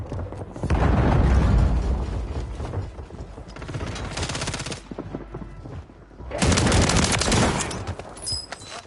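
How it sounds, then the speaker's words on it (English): Hostile mortar strike in a first-person shooter: heavy booming blasts and rattling gunfire come in two loud surges with a sustained roar between them, the bursts of fire crackling on to the end. "Hostile mortar strike near your position."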